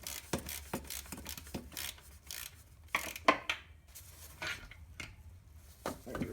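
A ratchet wrench works loose the starter bolt and nut on a Mazda RX8, giving a string of quick, close clicking bursts separated by short pauses and occasional metallic rubbing.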